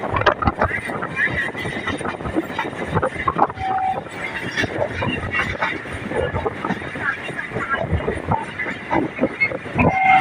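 A crowded passenger train on the Diamond Harbour line rolls along the rails with a loud, continuous rumble and clatter. Voices talk over the noise and a brief whistle tone is heard twice.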